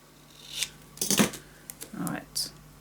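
Scissors snip the edges of paper for a scrapbook pop-up album, giving several quick, crisp cuts and rustles at close range in a quiet room.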